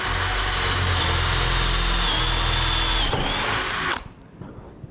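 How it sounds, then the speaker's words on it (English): A power drill drilling a hole runs loud and steady with a high motor whine that dips slightly mid-way, then cuts off sharply, leaving faint room noise. "Let's drill another hole."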